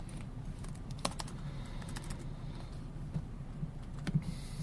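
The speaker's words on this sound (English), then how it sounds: "We're doing a lot of typing here before we're actually testing" Close, steady computer keyboard typing while programming an Asteroids-style game, irregular light key clicks with a few louder strokes over a low room hum.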